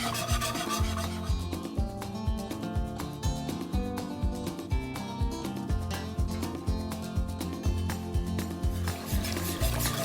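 A spoon stirs broth into cooked flour for a creamy chicken soup, making a rhythmic rasping scrape against the pot that repeats steadily, with no talk over it.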